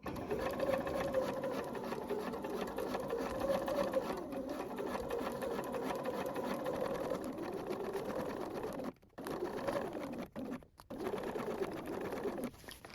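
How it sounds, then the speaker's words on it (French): A sewing machine runs steadily, stitching the back facing of a Saint-Tropez style top; the close, continuous whir breaks off in two brief pauses near the end. "Donc on coud d'abord la parmenture dos."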